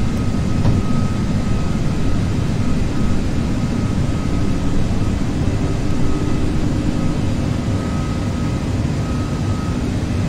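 Twin jet engines of an Airbus A330-300 at climb thrust in the Prepar3D flight simulator give a loud, steady, broadband roar with a low rumble and faint tonal whine, unbroken for the whole stretch.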